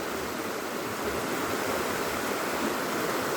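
River in a Papua forest, flowing with a steady, loud broadband rush of water that continues without a break.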